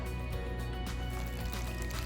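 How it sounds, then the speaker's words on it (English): Water is poured into a toy container in a steady, close, continuous trickle with a soft liquid splash. "Let's add our water."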